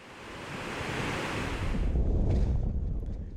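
Ocean surf breaking on a summer beach on the Ventura coast of California along the Pacific, a broad roar of wave wash with strong wind buffeting the microphone, swelling louder toward the end.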